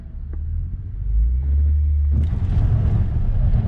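Front-wheel-drive Acura TL revving hard from a standstill, a deep rumbling engine that swells near the midpoint into a louder, rougher roar with tyre spin, heard from inside the car.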